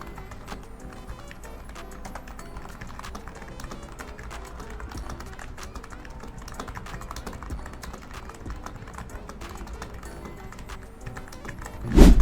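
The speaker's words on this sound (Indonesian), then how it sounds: "Ini gue tes dulu ya, gimana feel ngetik di keyboard Sade Saber nih" Continuous fast typing on a Sades Sabre TKL mechanical keyboard, crisp clicky keystrokes in a steady stream, close up, ending with a louder thump.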